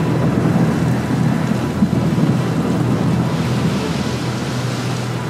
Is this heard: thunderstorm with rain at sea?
yes